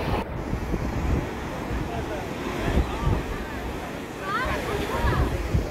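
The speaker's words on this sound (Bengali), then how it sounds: "কিন্তু সমুদ্রের পাশে বেশ হাওয়া চলছে, দারুণ হেভি" Strong, gusty wind roars across New Digha beach with the sea's surf washing beneath it, a steady broadband rush with faint background voices.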